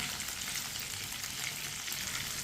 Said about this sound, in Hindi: अच्छी तरह फ्राई हो चुका है चिकन हमारा।